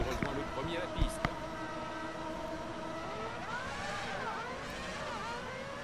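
An F1 car in F1 Championship Edition pulls out of the garage, its engine note rising and sweeping in pitch at moderate volume behind someone talking, with a few sharp knocks early on.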